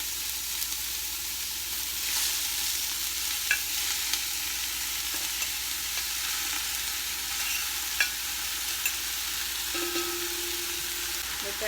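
Italian sausage fries with onions in a pot, giving a steady hiss and sizzle throughout, with occasional spoon scrapes and a few sharp knocks against the pot.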